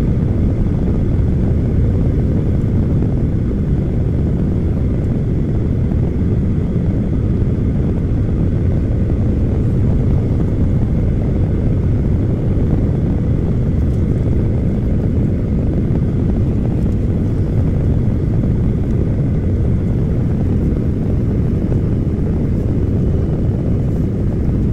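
Loud, unbroken cabin roar aboard a Garuda Indonesia airliner as it comes in to land in Jakarta, a dense low rumble that holds steady throughout without voices.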